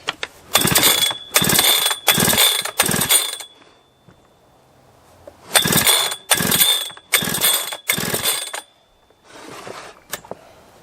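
Husqvarna 3120XP chainsaw being pull-started, with eight sharp ratcheting recoil-cord pulls in two groups of four separated by a pause, then a brief rasp near the end; the engine does not catch.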